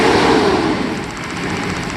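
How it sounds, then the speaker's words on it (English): A 1997 Mercedes S600 coupe engine gives a quick accelerator blip, a loud, close, rough rumble that swells and then settles over about two seconds with no talk over it. "We just give a quick blip on the accelerator"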